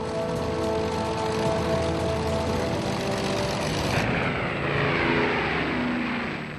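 Piston engines of a Short Stirling WWII four-engine bomber drone steadily and loudly, a dense continuous roar with sustained tonal hum that holds throughout without speech.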